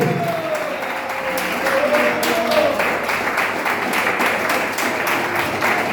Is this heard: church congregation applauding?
yes